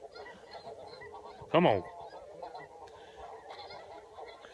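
Geese honk in a brief loud burst while flying in over a goose hunt, rising clearly above a steady outdoor background, with a short spoken phrase nearby.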